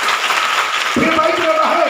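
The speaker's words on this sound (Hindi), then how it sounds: "जोरदार ताली बजाइए।" Applause from a church congregation breaking out after a brief spoken cue, a short burst of clapping with voices underneath.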